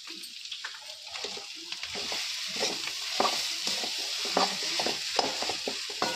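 Spiced potato filling with turmeric being fried and stirred in a pan, a steady sizzle overlaid by frequent scraping and tapping strokes of a spoon against the pan, close and moderately loud.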